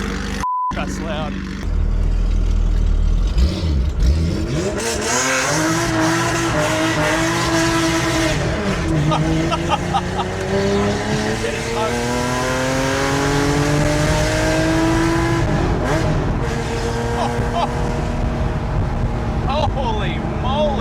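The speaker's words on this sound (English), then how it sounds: "paired with that brutal flat six sound" RWB Porsche 993 flat-six, loud and close, accelerates hard through several gears, each rising engine note broken by a shift, with tyre roar underneath.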